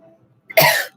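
A single short cough, close and fairly loud, in an otherwise quiet room.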